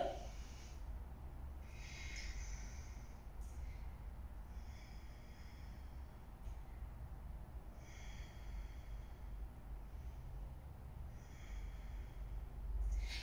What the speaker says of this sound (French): Ok, respire Ujjayi toujours.